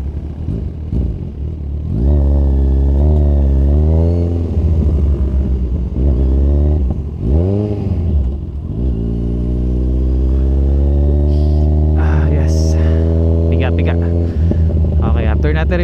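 Kawasaki Z1000 motorcycle on a road test, the engine revving up in repeated strong bursts, then holding a long rising pull, loud and close, with a voice talking briefly between revs.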